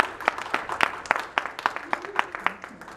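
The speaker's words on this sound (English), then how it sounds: "Another round of applause for both Tina and Marcia." An audience applauding after a poetry reading, with distinct individual claps in an uneven rhythm that thin out and fade toward the end.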